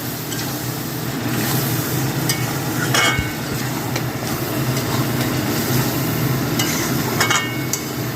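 Blended spinach gravy stirred in a pan, a steady close sizzle with a few brief scraping knocks from the spoon, no voices.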